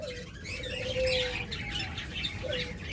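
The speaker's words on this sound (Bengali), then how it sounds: "চমৎকার মিউটেশনের এক জোড়া ককাটাল রয়েছে এখানে।" A pair of cockatiels, a cinnamon pied and a pied, calling in a caged bird setting, giving short whistled notes and chirps over a steady background hum of other birds.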